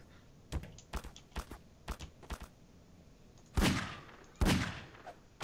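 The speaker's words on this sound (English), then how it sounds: "I almost shot you in the face when you walked by" Gunfire in Garry's Mod during a co-op horror session: a string of sharp, fairly quiet single shots or thuds in an uneven rhythm, then two louder, fuller blasts near the end.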